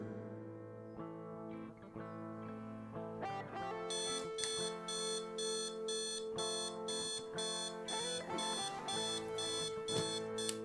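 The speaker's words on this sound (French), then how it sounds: "Le réveil programmé de Vincent remplit son office." A programmed bedside alarm clock goes off at seven in the morning, its rapid high electronic beeping pulsing in steady bursts over a sustained musical tone, close and insistent with no voices.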